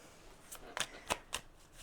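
Tarot cards are shuffled by hand in a few quick, soft riffling snaps, close and quiet.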